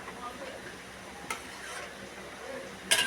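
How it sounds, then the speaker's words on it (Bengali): A spatula stirs a curry containing fried local magur fish in a pan over a full flame, giving a soft low sizzle with light scraping, a faint clink midway and a sharper metallic knock at the end. "আবার একটু নেড়ে দিলাম"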